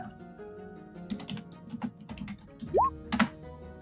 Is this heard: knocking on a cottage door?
no